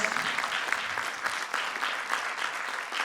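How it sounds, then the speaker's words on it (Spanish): An improv theatre audience applauds two performers, Antía and Carmen, with brisk, sustained clapping from a crowd, individual claps popping out of a lively, moderately loud patter. "un forte aplauso para elas"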